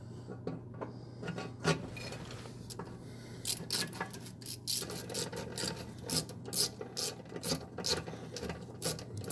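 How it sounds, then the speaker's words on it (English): Close ratcheting clicks and scraping metal as a socket is turned during oil pan removal on a 2007 Jeep Commander 2WD, in irregular bursts of short, sharp strokes. "This ratchet is awesome."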